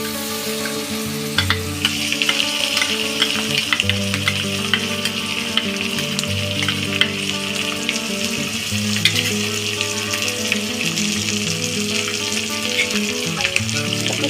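Ginger, onion, garlic and chilli paste sizzles vigorously with fried onions for a soybean dish, a loud, dense crackle with frequent pops and stirring scrapes throughout.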